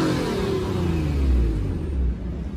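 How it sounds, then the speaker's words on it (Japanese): A Nissan Skyline HR34 coupe 2.0 GT engine revs hard with a deep, loud rumble, its pitch sliding down as the throttle eases off. "ちょっとアクセル吹かしてみます。"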